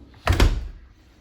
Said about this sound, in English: there's your walkout door from the basement